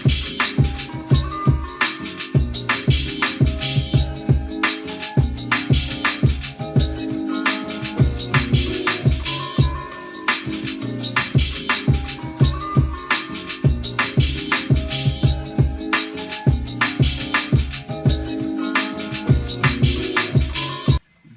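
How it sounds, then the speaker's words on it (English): Jazzy East Coast hip-hop beat in a boom-bap style, a steady drum pattern of punchy kicks and snares with open hi-hats ringing between hits, looping for about twenty seconds over sampled melodic chords, loud and dense with no talking. "So I added an open hi-hat in here"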